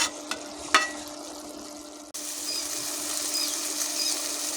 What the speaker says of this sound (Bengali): দিয়ে আবার নেড়ে দেবো। দিয়ে তরকারিটা ভালো করে কষিয়ে নেব।